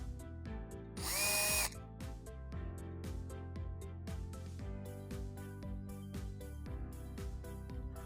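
A power drill driving a reinforcement screw into the underside of an InnoTech Atira drawer, with a sharp high whine of the motor at full speed followed by repeated clicking ratchet pulses, close and clear.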